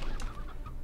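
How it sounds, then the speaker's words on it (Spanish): Rock chickens from the Slime Rancher game clucking in a short, fairly quiet burst, with no talk over them. "aquí tenemos gallinas pétreas"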